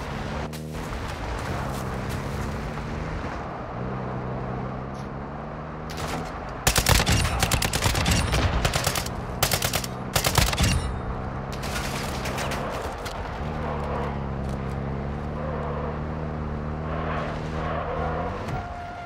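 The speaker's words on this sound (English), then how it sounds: "Taking fire over here!" Gunfire in the video game Call of Duty Warzone DMZ: a loud, dense burst of rapid automatic shots in the middle, over a steady droning engine hum before and after.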